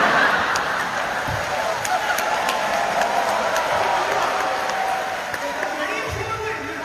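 A comedy crosstalk show audience gives steady applause and crowd noise, a dense, even wash of clapping that holds for about seven seconds, with some voices mixed into the din.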